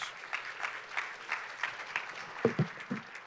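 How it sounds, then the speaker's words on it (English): A small audience at a celebration for high school state champion swimmers claps in a sparse, thin round, individual claps distinct and fairly faint with a few louder hits near the end. "give these amazing young ladies a fantastic round of applause"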